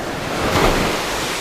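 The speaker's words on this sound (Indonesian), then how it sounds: "Jadi suara ombak kita bisa dengar, adem banget." Ocean surf washes in a broad, steady rush with a slightly louder swell midway, mixed with wind noise on the microphone and no talk.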